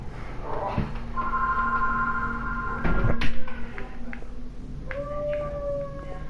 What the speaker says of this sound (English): I'm sorry if you can hear the dog howling